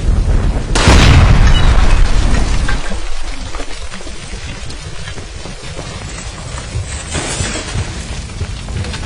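A gas line explodes in a burning building in the video game L.A. Noire: a loud, close, sudden boom with a shattering burst, then a long rumbling wash of debris and fire that slowly fades.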